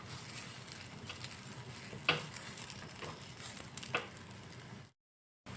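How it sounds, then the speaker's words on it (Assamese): Sooji dough flatbread frying in a pan, a steady low sizzle running throughout with a couple of brief louder crackles, close and alone, then cutting to silence near the end. "আৰু ঠিক একেই প্ৰচেছ মতে এইটো ৰুটি ভাজি ল'ম।"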